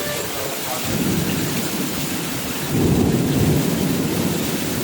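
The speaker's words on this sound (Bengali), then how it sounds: "সকাল সকাল চালু হয়ে গেছে বৃষ্টি" Morning rain falls steadily and heavily, swelling louder partway through, with a deep rumble of thunder rolling beneath the downpour.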